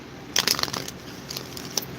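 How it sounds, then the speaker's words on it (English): Quick papery riffling and crinkling bursts as a fresh deck of cards is shuffled, a flurry of soft crisp flicks close by, then a final short snap, with no talk. "Let me shuffle."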